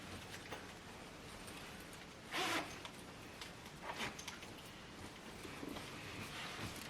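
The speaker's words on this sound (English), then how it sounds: "So let me zip this up." A jacket zipper pulled up close and quiet, one brief rasping zip followed by faint fabric rustles and a few small ticks.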